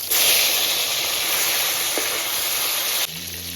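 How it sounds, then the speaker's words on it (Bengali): Thin, long-cut rohu fish pieces fry in hot oil with a loud, steady hiss and sizzle close up, which drops away abruptly near the end as they are turned. "মাছের এক সাইড ভাজা হয়ে গেছে, উল্টে দিচ্ছি।"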